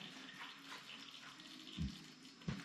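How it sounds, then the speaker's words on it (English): Engine oil drains from a Yamaha TW200 motorcycle in a faint, thin trickle with a couple of soft drips or splashes close by. "So while that oil's draining"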